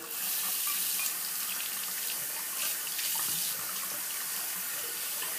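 A running tap splashes water steadily over a Muhle Black Fiber synthetic shaving brush being rinsed at a sink, a continuous close hiss with small fluctuating splashes and no talking.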